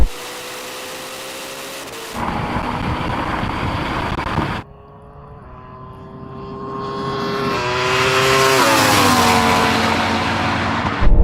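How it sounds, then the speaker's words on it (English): Ferrari SF90 accelerating hard in a drag race against a Porsche Taycan Turbo GT and Yamaha R1M, a loud engine roar that drops at a gear change and then rises steadily in pitch as the car pulls past. "That Ferrari just came past me."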